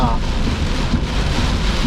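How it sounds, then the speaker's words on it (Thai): Heavy rain falls during a drive on a road in Nakhon Si Thammarat, a dense, constant roar of downpour and wind noise close to the microphone, loud and unbroken throughout. "ก็เจอฝนนะครับต้องบอกว่าหนักมากนะครับ"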